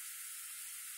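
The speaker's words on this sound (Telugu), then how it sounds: "వాటర్ మరుగుతుంది కదా" Water heating in a pot on the stove for millet and ragi khichdi gives a steady, faint hiss with no talk over it, brief and even throughout.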